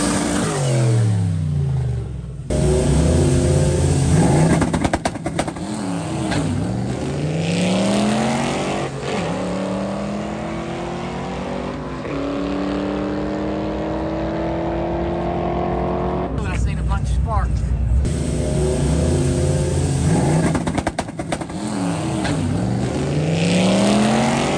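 A drag car launches hard down a quarter-mile strip, testing a new Vengeance Performance clutch. The engine roars loud and close, revving up through rising and falling gear shifts, with a brief drop partway through, then climbs again.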